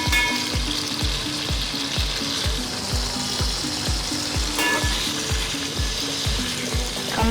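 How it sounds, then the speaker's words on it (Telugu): Onions frying in a pan as the base for a fish curry gravy, a steady loud sizzle throughout, with rhythmic stirring scrapes repeating about every half second. "కంప్లీట్ గోల్డెన్ బ్రౌన్ రావాలా లేదా ఆనియన్ ట్రాన్స్పరెంట్ అయితే సరిపోతుంది?"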